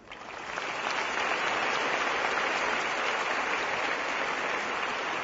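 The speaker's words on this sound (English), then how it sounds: "Let's show our appreciation with a thunderous applause for those winners amongst us." Sustained audience applause for award winners at a science congress, rising quickly from a quiet start into a dense, loud, steady clapping that fills the whole stretch without letting up.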